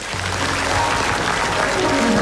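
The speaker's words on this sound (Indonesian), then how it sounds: "Tepuk tangan dulu dong." A studio audience at a comedy show bursts into dense, steady applause that swells slightly toward the end, with a voice faintly under the clapping.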